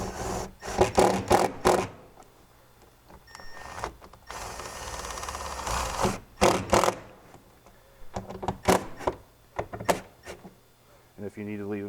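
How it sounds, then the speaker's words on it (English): Lag bolts are driven straight into bare wood to fix a network interface box to a wall, with repeated bursts of grinding, rasping fastener noise separated by pauses and handling clatter, close and fairly loud. "Now I'm going to go ahead and secure it to the wall using the lag bolts."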